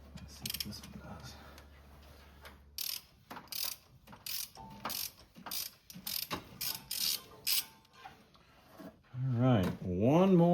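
A ratchet loosens hot exhaust manifold studs on a Dodge Dakota with a 5.2 Magnum V8, giving rapid, close clicking bursts in uneven runs, followed by a strained creak near the end.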